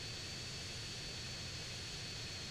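A continuous heavy drone from a plane's engine flying in GTA San Andreas, loud and unchanging throughout, with no speech.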